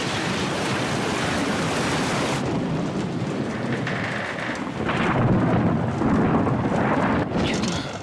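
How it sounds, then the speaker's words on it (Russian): A fierce thunderstorm rolling in, with a broad, loud wash of rain and deep rumbling thunder building and swelling, steady and close for the whole stretch. "Что-то гроза такая страшенная заходит, а?"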